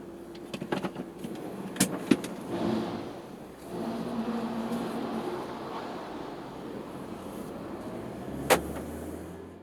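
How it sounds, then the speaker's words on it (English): Interior of a 2013 Kia Cerato 2.0 sedan on a test drive in Malaysia, a soft, steady engine and road hum with a few clicks and thumps from the cabin. "let's take a test drive of the Cerato"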